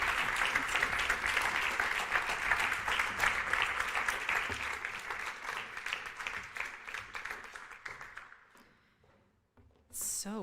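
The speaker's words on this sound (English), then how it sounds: "So I would like to ask our small but very engaged audience to give a big round of applause for Judith Walls, Sarah Nord, and Christian" A small audience applauds panelists at a closing ceremony, steady dense clapping for about eight seconds that thins and fades, followed by a brief burst of noise at the end.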